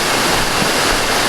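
Nauyaka waterfall in Costa Rica flows through and over rocks in a loud, constant roar of rushing water, close and unbroken.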